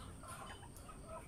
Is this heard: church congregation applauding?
no